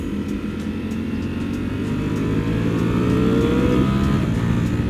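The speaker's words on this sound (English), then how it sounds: "This Street Fighter is so easy to ride. Like, you just rip around these turns." A Ducati Streetfighter motorcycle engine drones loud and steady under a rider in motion, its pitch climbing gradually as it revs, with wind rush throughout.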